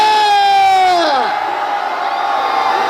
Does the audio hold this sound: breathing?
no